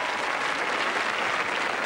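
A television studio audience applauds steadily, a dense, even roar of many hands with no gaps, moderately loud throughout.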